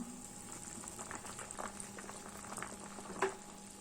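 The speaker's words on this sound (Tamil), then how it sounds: "இப்போ பாருங்கள் நல்லாவே பாயில் ஆயிடுச்சு பாருங்கள் தண்ணி நல்லா கொதிக்க ஆரம்பிச்சிருச்சு" Steady bubbling and gurgling of water at a rolling boil, a continuous close-up simmer with small pops and one brief louder splash near the end.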